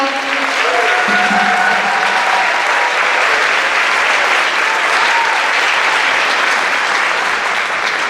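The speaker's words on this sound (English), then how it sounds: "Give a round of applause for our Christmas elf, Miss Angela Mejia." Loud, sustained audience applause at a middle school winter band concert, a dense wash of clapping lasting the full eight seconds, with a voice briefly audible under it at the start.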